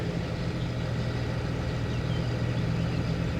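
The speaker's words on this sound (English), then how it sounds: "it's a brand new tractor. It sounds good." A brand-new Claas tractor engine idles steadily nearby, a low, even rumble with no change in pace and no voices.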